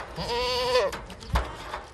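A goat at a farm shop in the UK lets out one loud, quavering bleat close by, followed by a few soft thumps and rustles, with no talking.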